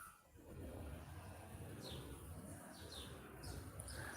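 Small starlings chirp outdoors on a street alongside pigeons, several short rising tweets repeating at intervals over a steady low hum of distant traffic, faint and somewhat far off.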